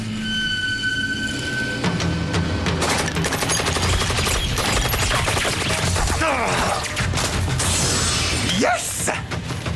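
Automatic machine-gun and minigun fire from a Sword Art Online anime battle, dense rapid bursts with crashes and impacts layered under music and talk throughout.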